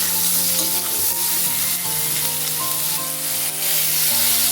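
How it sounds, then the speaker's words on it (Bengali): Ridge gourd pieces frying in oil over a high gas flame, a steady loud sizzle with occasional stirring scrapes, while background music plays throughout. "গ্যাসের ফ্লেমটা একটু হাইতে রেখে ঝিমেগুলো ভেজে নিচ্ছি আলাদা করে"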